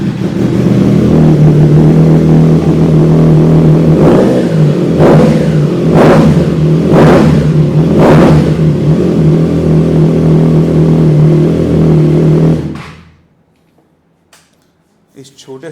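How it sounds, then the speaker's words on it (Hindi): A Triumph Trident motorcycle engine idles loud and close and then takes several sharp revs in a row before shutting off into near silence, with a voice talking over it. "आइए पहले फायर अप करते हैं ट्राइडेंट को,"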